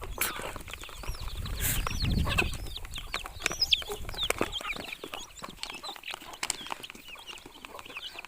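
Native country chickens cluck and chatter continuously nearby, with scattered sharp peeps from chicks and a brief louder squawk early on.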